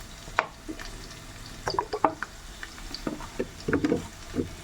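Mustard oil goes onto raw duck meat, and the pieces are mixed by hand. The result is a series of wet squelching, slapping and stirring sounds in irregular bursts, close up with no talk.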